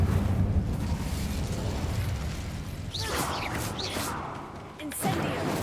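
Incendio fire spell cast in a Harry Potter video game: bursts of whooshing flame and crackling impacts around the middle, over a steady layer of game ambience and music, with a brief voice in the background.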